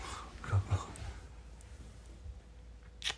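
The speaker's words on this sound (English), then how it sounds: "You guys hear that snore?" A sleeping dog recovering from spine surgery snores softly: two close nasal snorts early on, then quiet, wheezy breathing and a faint click near the end.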